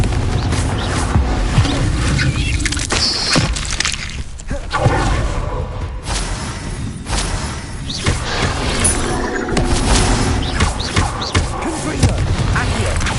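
Repeated fire spell blasts from Hogwarts Legacy ring out amid dense, continuous game combat, with loud booming and crashing impacts over a busy layered soundscape that stays loud throughout.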